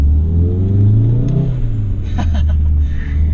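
A 500 hp VW Golf 7R engine revs up then drops off, followed by a quick fluttering hiss and chatter as the turbo wastegate dumps pressure, close and loud.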